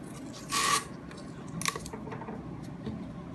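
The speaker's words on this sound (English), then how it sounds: "I'm going to take a quick piece of tape and tape this guy up." Tape is pulled and wrapped once around a hub cap nearby, giving two short rasping bursts of rubbing and tearing against a quiet background.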